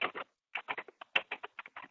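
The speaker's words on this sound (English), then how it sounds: "oh, I can hear somebody typing in the background." Somebody typing on a computer keyboard in the background, a quick irregular run of soft key taps with brief pauses, faint and distant.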